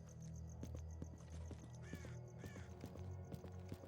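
A crow caws a few times in the video game Stalker: Call of Pripyat, set among ongoing ambient game sounds and soft clip-clop-like noises.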